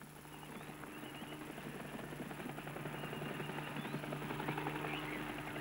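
A helicopter drives a herd of oryx toward a trap in the Namibian bush, its steady rotor drone running low and continuous beneath scattered hoof clatter from the animals, getting slightly louder over the span.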